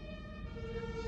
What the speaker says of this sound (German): Nee, das war die Feuerwehr.